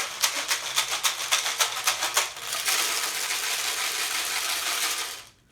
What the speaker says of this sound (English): Our water bottle shaker with beads inside.